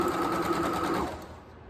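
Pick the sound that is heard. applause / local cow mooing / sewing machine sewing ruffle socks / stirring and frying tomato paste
sewing machine sewing ruffle socks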